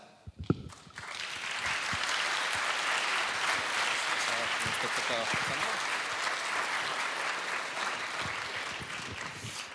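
An audience at a closing ceremony in Riga, Latvia, claps in sustained, dense applause that swells and holds, with faint voices mixed in.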